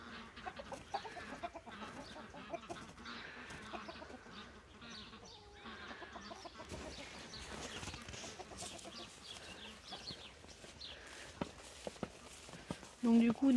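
Hens on a farm clucking in a run, a steady scatter of soft calls alongside footsteps and a person talking throughout.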